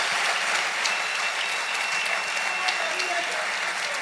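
A church congregation breaks into loud, sustained applause throughout, a dense wash of clapping hands with a few sharper claps standing out close by.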